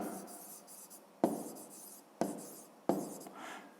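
A pen writing on paper nearby, soft steady scratching broken by three sharp taps as the pen meets the page, with no voices.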